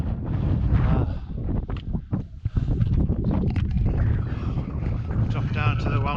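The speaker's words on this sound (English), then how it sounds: "That wind is freezing." Strong wind on an exposed Lake District fell walk near Brown Pike, roaring and buffeting the microphone in heavy continuous gusts, with a voice faintly audible beneath.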